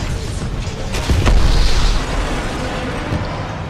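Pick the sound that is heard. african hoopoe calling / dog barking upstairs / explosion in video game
explosion in video game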